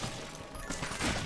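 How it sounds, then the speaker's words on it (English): A dense, noisy in-game explosion from Minecraft Dungeons, a broad rumbling blast that swells and holds loudly for just over a second, with no clear onset or decay and no talking. "I sent you off with a freaking explosion"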